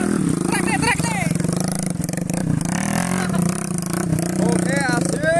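A motorcycle on an off-road trail ride revs hard and close, its engine note rising and falling in bursts while voices call out over it.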